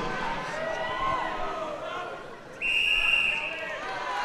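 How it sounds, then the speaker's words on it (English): A referee's whistle blasts at a strongman wrecking ball hold event, a loud sustained shrill tone starting about two-thirds of the way in over steady crowd noise and arena commentary. "Listen for the whistle."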